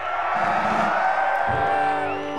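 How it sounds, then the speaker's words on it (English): A concert crowd cheers for Bart, a loud, steady roar of whoops and shouts over sustained musical tones, swelling again near the end. "Okay, everybody cheer for Bart."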